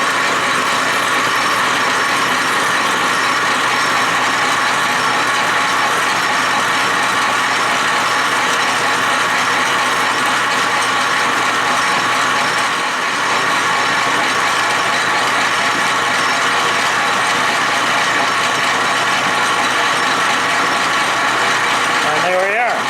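A metal lathe parting off a workpiece with a homemade cut-off tool, a steady loud grinding and scraping drone that holds unbroken throughout, with a brief dip near the middle.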